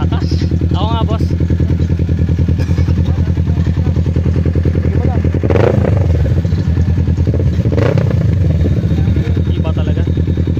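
A 650 motorcycle revs loudly and close on a breakfast ride, its engine throbbing steadily throughout with two sharper surges, while people talk over it.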